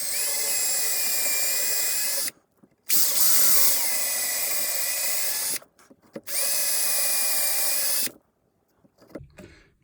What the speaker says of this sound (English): now we do have to drill some holes.